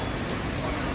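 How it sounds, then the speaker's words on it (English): Rain falls steadily as a storm threatens, making a dense, even hiss with no break for about a second. "So it's threatening rainstorm, but we haven't gotten damp yet."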